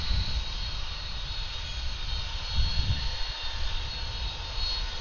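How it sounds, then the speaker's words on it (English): Southwest Boeing 737 jet on its takeoff roll at Atlanta airport in the evening, a steady broad engine roar heard from a distance with a low rumbling swell, no talking. "As the Southwest 737 is on the takeoff roll."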